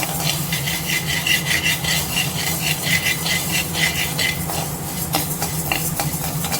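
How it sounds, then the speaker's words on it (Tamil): Black urad dal dry roasting in a pan, stirred continuously with a rhythmic rasping scrape of the grains against the metal, loud and close, with no talking. "கருப்பு உளுந்து, இதையும் நல்லா கலர் மாறுற வரைக்கும் வறுத்து எடுத்துக்கலாம்."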